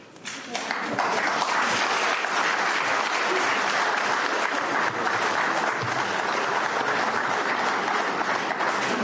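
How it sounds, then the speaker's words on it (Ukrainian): A large audience applauds after an announcement by the Ukrainian president about a currency bill. After a brief quiet start, dense clapping swells and holds loud and continuous for about nine seconds. "Дозвольте ваші оплески вважати"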